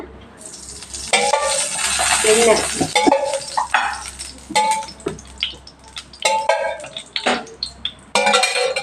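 Chopped onions frying in hot oil in a kadai for chicken gravy, a steady close sizzle broken by repeated scraping strokes of a spoon stirring, with occasional metallic clinks against the pan.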